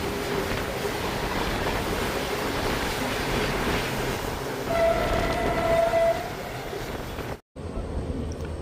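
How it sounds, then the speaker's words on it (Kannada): Train entering Tumakuru Junction railway station, steady rolling rumble of coaches with a loud horn blast partway through, followed by a brief dropout and renewed close clatter. "ನಮ್ಮ ಟ್ರೈನ್ ಈಗ ತುಮಕೂರು ಜಂಕ್ಷನ್ ರೈಲ್ವೆ ಸ್ಟೇಷನ್ ಒಳಗೆ ಎಂಟ್ರಿ ಆಗ್ತಿದೆ."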